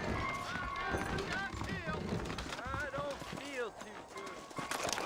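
Horse hooves clip-clop in the video game Red Dead Redemption, a steady trotting beat sitting beneath continuous conversation between voiced characters.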